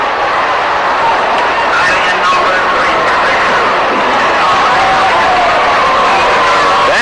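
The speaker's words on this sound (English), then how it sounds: "Stan Musial being announced to the crowd and gets an ovation." A ballpark crowd at Ebbets Field in Brooklyn roars in a sustained ovation for Stan Musial, a dense, continuous wash of distant cheering and chatter heard through an old broadcast recording.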